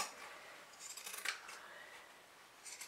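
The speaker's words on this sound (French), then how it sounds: "je vais enlever l'excédent de tissu ici dans mes arrondis à l'aide de mes ciseaux cranteurs" Pinking shears snip away excess fabric around the curved seams of a sewn multi-purpose pouch, giving a few faint crisp cuts with one clearer snap near the middle, in a quiet room with no talking.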